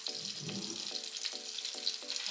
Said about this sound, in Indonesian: kalau udah butternya udah meleleh, kita tambahkan 2 sendok makan terigu.